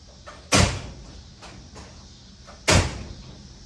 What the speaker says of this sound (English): Doors closed like a 75 Cadillac.